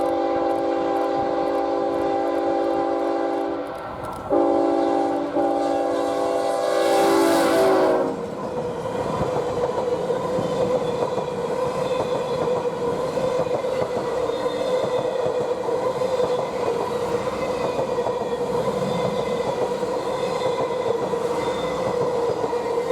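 A BNSF Employee Appreciation Special train passes on the Moffat and Joint Line, opening with a long loud multi-tone horn blast, then a steady heavy rumble of railcars rolling by close at hand.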